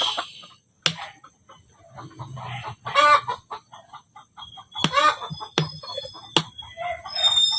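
Chickens cluck in short bursts around a yard, with sharp sudden calls and a rooster's crow breaking in between quieter pauses.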